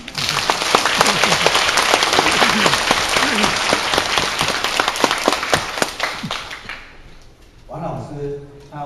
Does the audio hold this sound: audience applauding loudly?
yes